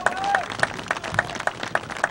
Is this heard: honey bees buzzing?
no